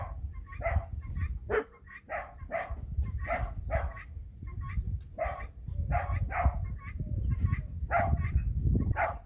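Dogs bark steadily and repeatedly at a moderate distance, overlapping yaps in an uneven rhythm over a low background rumble, with no talking.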